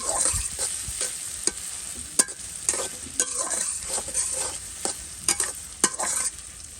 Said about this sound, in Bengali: তেল গরম করে একটু এলাচ দারচিনি দিয়ে দিচ্ছি একটু একটু ভাজাভাজি হলো এখন একটু একটু পেঁয়াজ কুচি দিয়ে দিলাম